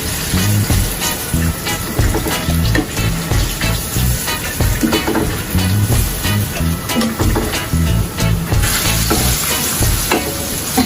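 Chicken sizzles and fries in a pan for Thai cashew chicken, with a steady close crackle, repeated stirring clatter and no talking.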